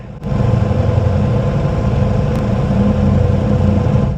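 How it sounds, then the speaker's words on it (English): A 2025 Ducati XDiavel V4 motorcycle engine idles with a steady, low, throbbing exhaust burble, loud and close, holding an even rhythm from start to finish. "to have almost kind of a street cruiser, bruiser, burble to the exhaust note"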